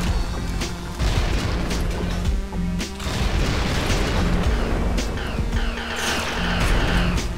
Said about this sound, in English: I'm gonna use my mass driver and my impact mortar.